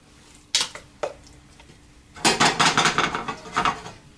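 A spoon stirring rigatoni pasta and cheese in a pot, a couple of isolated knocks followed by a rapid run of clattering, scraping strokes against the metal, fairly close and loud.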